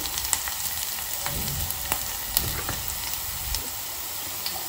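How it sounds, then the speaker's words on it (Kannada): Onions frying in oil in a pan on the stove, a steady close sizzle with scattered crackles and pops throughout, with no voices over it. "ಇದನ್ನು ಫ್ರೈ ಮಾಡಿ, ಯಾಕಂದರೆ ಇವಾಗ ಆಲ್ರೆಡಿ ನಮ್ಮ ಈರುಳ್ಳಿ ಟ್ರಾನ್ಸ್ಲೂಸೆಂಟ್ ಆಗಿದೆ."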